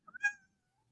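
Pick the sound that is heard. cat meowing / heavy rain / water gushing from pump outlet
cat meowing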